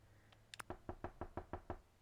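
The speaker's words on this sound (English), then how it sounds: "The door is cold against your fingers as you rap it against the door." Raven-headed door knocker rapping on a cold mansion front door in the game Boyfriend Dungeon: a couple of quick taps, then a steady series of about seven evenly spaced, fairly close knocks, with no talking.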